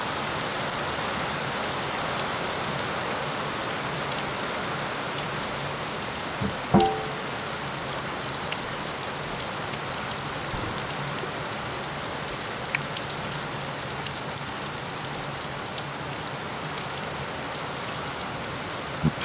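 Steady rain pours down during a storm at Havasu Landing, a dense, even hiss of drops hitting surfaces close by, with a single brief knock partway through.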